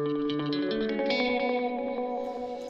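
Music track built in Ableton Live, processed with distortion and compressors: a bright, saturated, reverberant layer of harmonic tones with quick rhythmic pulses, fairly quiet and steady, with no voices.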